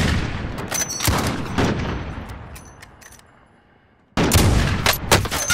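Gunfire in Call of Duty: Modern Warfare: a loud cluster of rapid shots fades into a decaying tail and a short lull, then a second burst of sharp shots erupts at close range.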